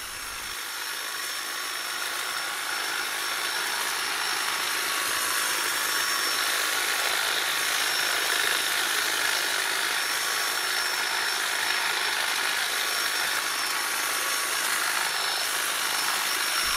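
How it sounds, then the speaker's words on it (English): Battery-powered hedge trimmers cut back thick, thorny josterberry stems in a garden bed, giving a steady high-pitched electric whir that rises slightly and then holds for the whole stretch, close and unbroken, with no talking. "My battery-powered hedge trimmers make light work of cutting it back, even though there's some fairly thick stems on the josterberries."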